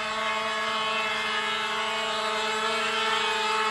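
The motors of a foamboard VTOL tail-sitter whine steadily under heavy throttle, a loud continuous tonal buzz with no talk.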